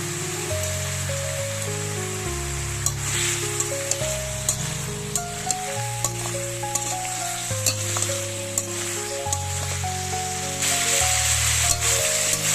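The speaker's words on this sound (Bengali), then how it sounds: "এবার আমি পটলগুলো দেবো, একসঙ্গে কষিয়ে নেবো আবার একটু।" Potato and pointed gourd fry together in hot oil with a steady, close sizzle, while a melodic tune plays over the top throughout.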